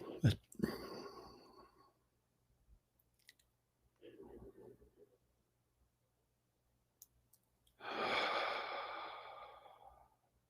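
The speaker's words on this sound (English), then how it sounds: "Take some deep breaths. Long, slow, regular breathing." Slow, deep breaths drawn during a guided morning meditation, close and soft: a sharp intake, a quieter breath a few seconds later, then a long drawn exhale, separated by silence.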